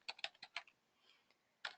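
Computer keyboard typing heard up close: a quick cluster of five or six crisp key taps, a brief pause with faint clicks, then one more sharp tap, quiet and with no talking.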